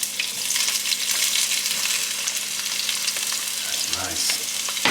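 Food sizzles steadily in a hot pot on the stove while a chopped cheese, a New York corner-store style sandwich, is being made; the loud, continuous crackling frying noise is heard alone with no talk.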